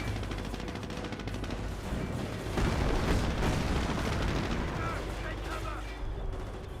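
Artillery barrage shells exploding in the World War II strategy game Company of Heroes, a dense, continuous roar of blasts and rumble that swells louder partway through, with a voice talking over the battle noise.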